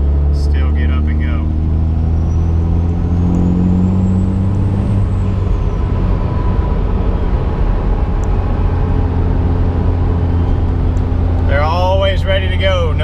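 A twin-turbo Cummins diesel truck accelerates from low RPM, its heavy engine drone loud and near with a thin rising whistle. Brief talk comes at the beginning and again at the end.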